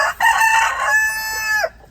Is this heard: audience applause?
no